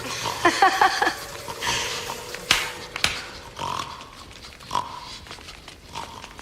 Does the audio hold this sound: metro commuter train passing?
no